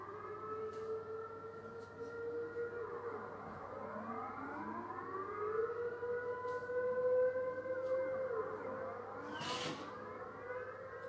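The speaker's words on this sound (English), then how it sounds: "once a month, they test the sirens." Civil defense sirens sounding during a routine monthly test, long rising and falling wails overlapping from several directions, heard at a distance over steady background hum.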